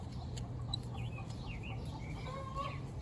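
Backyard chickens cluck and warble softly in a few short, drawn-out calls at moderate distance over a constant low hum, with no talking.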